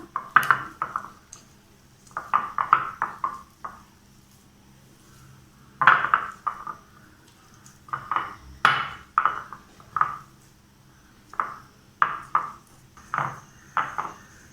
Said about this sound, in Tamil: நம்ம உருளைக்கிழங்கு நல்லா மசிச்சிக்கலாம்.